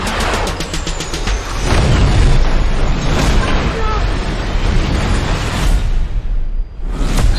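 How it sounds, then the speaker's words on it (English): Explosions in the Fast X movie trailer: heavy booming blasts and rushing whooshes layered with dramatic score, loud and continuous with a brief drop near the end before another surge. "Explosions as always."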